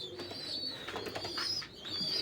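Fancy pigeons in a loft, soft low cooing murmurs with a faint high tone running through, quiet and continuous.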